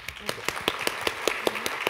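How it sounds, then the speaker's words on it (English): A few sharp, evenly spaced claps ring out in quick succession, roughly five per second, from a conference audience at a responsible business forum plenary panel in Singapore, close and crisp rather than a full roar. "a big round of applause, please, for the panel"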